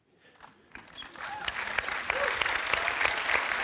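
A film festival awards ceremony audience breaks into applause, rising from a few scattered claps into full, sustained clapping from a large crowd in a hall.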